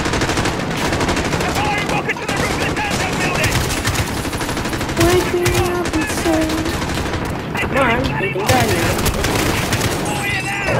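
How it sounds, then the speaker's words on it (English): Automatic AK-47 fire in Modern Warfare crackles in repeated bursts through a busy, loud game mix, with a voice talking over parts of it. "This AK-47."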